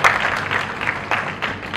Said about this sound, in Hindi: एक बार जोरदार तालियों से सर का स्वागत करें।